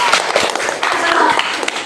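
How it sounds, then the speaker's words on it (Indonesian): Applause from a school class, a brisk patter of many hands clapping close by, with scattered sharper claps and some voices mixed in. "Tepuk tangan"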